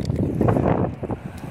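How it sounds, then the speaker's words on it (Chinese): Strong wind at the seashore buffets the microphone with a rough, rumbling roar that surges and dips over a second or two, loud and close, with no voices. "今天这大风实在太可怕了"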